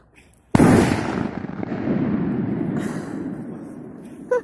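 A very large firecracker goes off with one sudden, loud blast, then a long rumbling roar that slowly fades over several seconds, with a faint sharp pop near the end.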